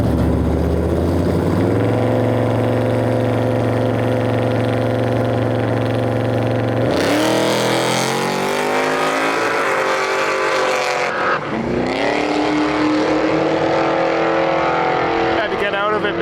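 Nitrous-fed drag racing car on a 200 shot at Gainesville Raceway, idling loudly with a steady drone, then launching with a sudden roaring burst that screams down the strip and fades. Voices in the background.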